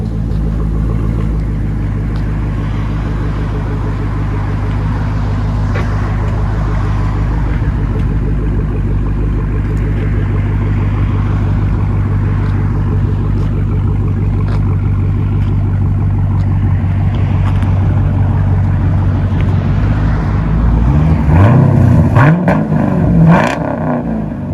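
A Chevy Camaro SS with an aftermarket exhaust holds a loud, steady, deep rumble close by, then blips into sharper revs near the end.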